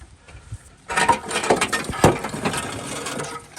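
A hand tool tightens a fitting while removing boiler flues with a PterodacTile flue tool, giving a close burst of metallic clicking, ratcheting and scraping that starts abruptly and continues for a few seconds.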